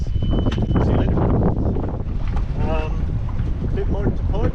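A sailboat under way with its engine started rumbles steadily beneath strong wind noise and water wash, with a voice talking over it throughout.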